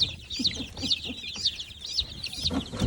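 A brooder full of chicks, with a couple of ducklings among them, keeps up constant high peeping and soft clucking close by, a busy overlapping chorus with no talk.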